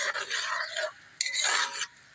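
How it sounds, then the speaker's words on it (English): Peppers stirred in a pot on a smoker outdoors, a close scraping, rasping utensil sound in two long strokes separated by a brief pause. "Give everything a nice stir"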